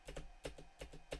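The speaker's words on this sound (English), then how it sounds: "keep clicking on the keyboard to stop auto boot" Quick, light keypresses on a computer keyboard tap out in a loose rhythm, roughly six clicks in just over a second, faint and close with no voices.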